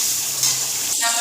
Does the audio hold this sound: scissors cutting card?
no